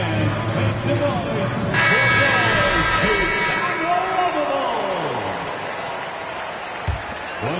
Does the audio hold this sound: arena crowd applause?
yes